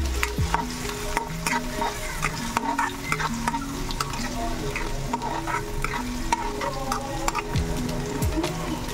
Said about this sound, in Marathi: तर इथे आपण लसूण आणि मिरचीची पेस्ट टाकलेली आहे।